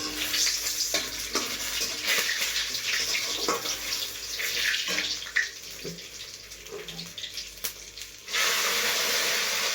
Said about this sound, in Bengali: আর এধারে আমি তেল বসিয়ে দিয়েছি কড়াইতে তড়কা বানানোর জন্য।